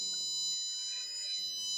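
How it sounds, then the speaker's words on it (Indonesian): A buzzer on a plant environment monitoring device with a red LED, sounding continuously as a steady high electronic tone at low level, with no talk. "LED merah menyala dan buzzer berbunyi secara terus-menerus"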